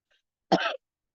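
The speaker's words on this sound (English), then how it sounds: "Sorry for the coughing." A single short cough, close and clear, with silence around it.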